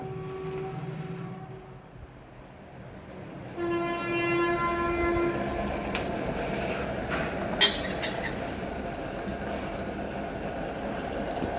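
A train rumbles past close by a railway station, its steady clatter growing louder partway through, with a horn sounding over the noise near the end.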